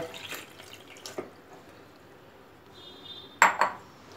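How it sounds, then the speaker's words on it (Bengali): Water from soaked shredded potatoes being drained through a sieve in a kitchen, faint trickling and dripping with a few clinks of utensils and a couple of sharper metallic knocks near the end. "এবার আমি একটা ছাঁকনির উপরে জলটাকে ছেঁকে নেব"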